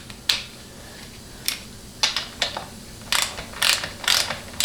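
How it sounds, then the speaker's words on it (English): A ratchet and socket tighten the extension housing bolts on a Ford 6R140 transmission during a rebuild, giving close, crisp clicking bursts in short irregular strokes with brief pauses between them, with no talk. "So I'm going to try the ratchet and socket method."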